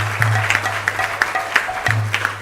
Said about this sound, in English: A big round of applause for His Grace Amarendra Prabhu.